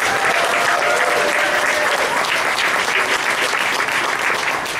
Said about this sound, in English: a round of applause for Landgrant Brewing Company